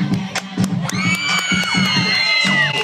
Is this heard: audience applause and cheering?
yes